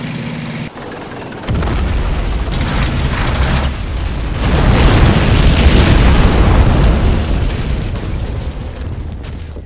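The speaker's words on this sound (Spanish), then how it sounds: "Artillería de cohetes." Rocket artillery explosions from the Men of War video game land in a series of loud, deep booms that swell into a continuous rumbling barrage growing heavier toward the end.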